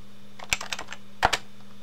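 A few quick keystrokes on a Mac computer keyboard as a command is typed, light clicks in two short clusters, close and clear against a faint steady hum.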